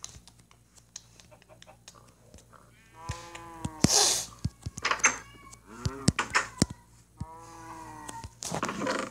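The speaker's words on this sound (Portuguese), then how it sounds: "Para de miar, gato do caramba." A cat meows repeatedly in short, loud, rising calls close by, alongside keyboard typing and a low hum.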